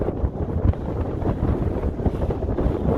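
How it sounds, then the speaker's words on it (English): Strong wind on an exposed cliff along the Pacific Crest Trail roars and buffets the microphone in uneven gusts, a loud low rumble with no voices. "It is so windy right now, it's hard to stand."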